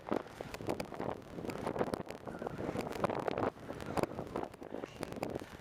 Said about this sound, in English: It's freaking windy as hell.